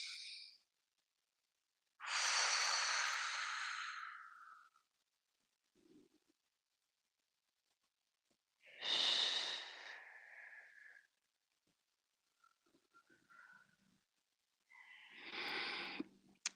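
Slow, deep breaths during a tai chi neck exercise: three long, breathy exhalations spaced several seconds apart, close and soft, with faint shuffles between them.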